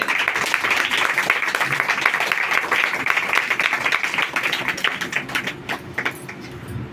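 A church congregation during a sermon on baptism bursts into loud, sustained hand clapping that fills the whole stretch, dense and crackling without a break.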